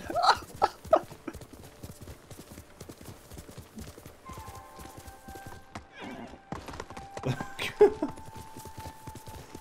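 A horse gallops near cliffs in the Ghost of Tsushima video game, with rapid hoofbeats fairly close and moderately loud, running under occasional speech and game sounds.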